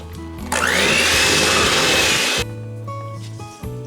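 An electric mixer whirs loudly for about two seconds, beating cocoa buttercream frosting with vanilla extract, salt and milk, then cuts off, leaving faint kitchen clatter.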